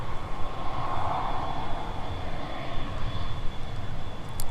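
An Endeavor CRJ regional jet airliner at Minneapolis–St. Paul airport roars steadily at a distance, a sustained engine rumble with a high whine on top and no break in the sound.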